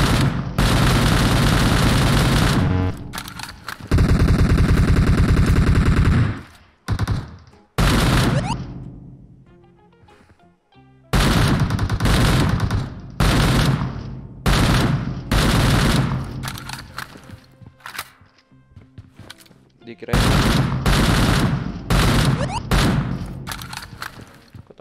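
Gunfire in a video game shooting battle, loud dense bursts of automatic fire and booming shots in long volleys, broken by brief quiet gaps, with no talk over it.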